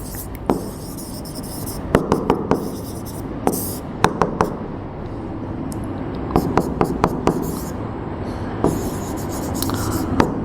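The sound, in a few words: writing out a math answer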